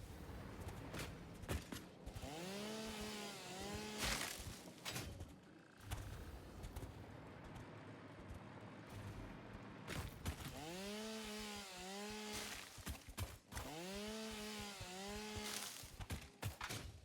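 Chainsaw in the factory-building video game Satisfactory, revving in repeated bursts with rising and falling whine, broken by short pauses and softer mechanical clatter, fairly quiet overall with no speech.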